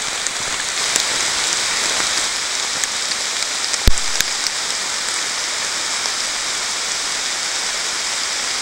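Steady rain falls at Twin Lakes State Park with an even, dense hiss, broken once by a sharp click.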